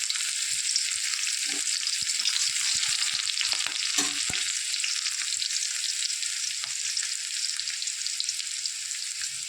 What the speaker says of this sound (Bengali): রসুন হালকা লাল করে ভেজে নিয়েছি